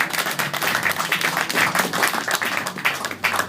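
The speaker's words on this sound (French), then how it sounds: "Si tu acceptes, tu peux applaudir pour la gloire de Dieu." Church congregation applauding together, a dense, steady wash of many hands clapping close by for several seconds without a break.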